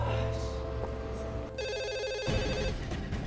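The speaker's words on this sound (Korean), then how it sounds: "한편 박수찬을 수배 중이던 경찰에게 한 통의 제보 전화가 걸려옵니다." A telephone rings with a steady electronic trill, loud and close, repeating over a low background hum.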